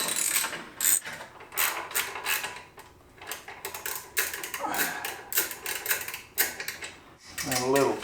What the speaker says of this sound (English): Take the clamp and the bolt off and it should just slip right off.